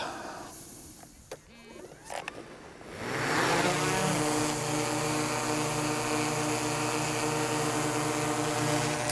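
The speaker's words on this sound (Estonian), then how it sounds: "Lülitan drooni sisse." Drone propellers spin up for a forestry flight, starting with faint handling clicks and then rising into a loud, steady rotor whine with layered tonal buzzing that holds to the end.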